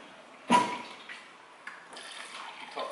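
Water pours into the windscreen washer reservoir of an Isuzu MU-X 4WD, with a sudden close splash followed by quieter trickling and a few small splashes, faint and alone.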